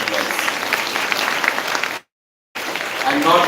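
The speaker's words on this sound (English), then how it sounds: "Let's give them a round of applause." Audience applause at a school Independence Day inter-school competition valedictory, a steady dense wash of clapping that cuts out briefly to silence and then resumes, with no voices over it.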